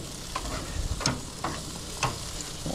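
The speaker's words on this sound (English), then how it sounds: "Pork chops is cooking." Pork chops sizzle on an outdoor cookout grill with a steady, close frying hiss, with a few brief louder crackles and scrapes rising above it and no voices.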